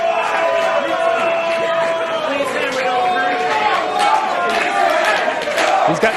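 A pro wrestling crowd roars and chants loudly and continuously in a packed venue, a dense wall of voices with rising shouts and cheers throughout.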